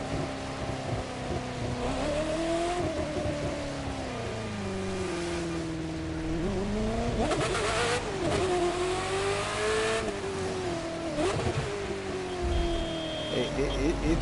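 An engine revs and accelerates in The Crew 2 racing game, on a heavily upgraded car running around 275 to 280 performance level. Its pitch climbs and falls in repeated gear sweeps, loud and continuous throughout.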